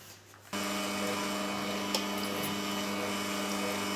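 Electric hand mixer starts up with a sudden onset and runs in a steady, loud motorized whine while whipping egg whites for a roll cake, continuous and close with no talk.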